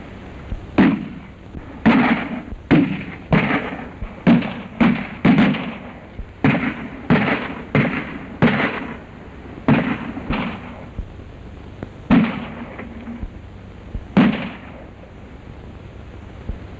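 Sharp gunshots ring out in a 1932 western film, a dozen or so irregular cracks fired over several seconds, some in quick pairs, each loud and close with a short echoing tail.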